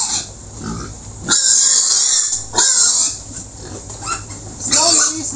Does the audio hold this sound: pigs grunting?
yes